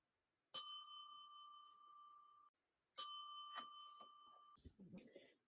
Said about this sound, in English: make sure you turn the page when you hear the bell